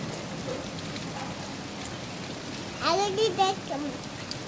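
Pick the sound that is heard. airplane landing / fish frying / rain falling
rain falling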